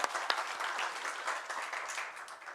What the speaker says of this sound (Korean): 우리 하나님께 영광의 박수 올려드리겠습니다